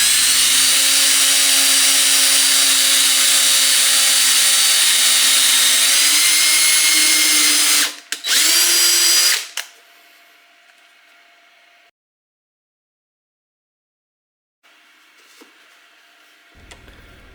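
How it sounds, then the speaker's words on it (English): A power drill bores 3mm holes in a sealed plastic filament dry box, a loud, steady high whine for about nine seconds that cuts out briefly, surges again, then drops to quiet near-silence. "drill. These are 3mm holes."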